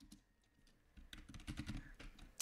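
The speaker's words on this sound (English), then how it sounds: "I love my loud keyboard." Quiet computer keyboard typing, soft at first then a rapid flurry of clacking keystrokes close by.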